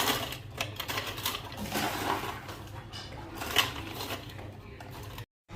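Electric kitchen chopper grinding bread into bread crumbs, a busy rattling whir with light clatter that runs steadily and then cuts off abruptly near the end.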